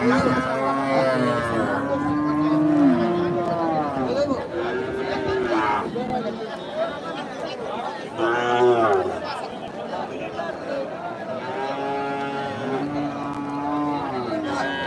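Cattle moo repeatedly at a crowded cattle market, several long drawn-out calls rising over a steady background of crowd chatter and nearby talk.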